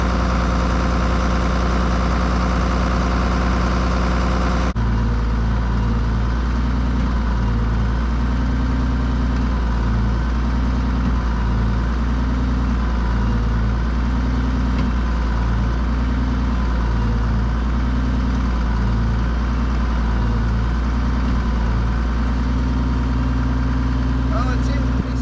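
Case IH 1066 tractor idling beside a Case 660 combine, a steady low diesel throb that holds for the whole stretch, with a rhythmic knocking pattern after the first few seconds, close and fairly loud.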